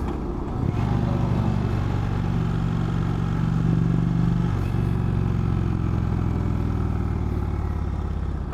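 An Indian Chief Vintage motorcycle engine drones steadily and loudly at close range, a constant rumbling hum as it rides along.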